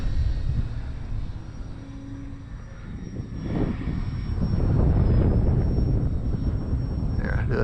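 A Parkzone T28B RC model airplane flies outdoors in gusty wind at Avon Park, its thin, high electric motor whine holding steady as it passes. Heavy wind rumble buffets the microphone throughout.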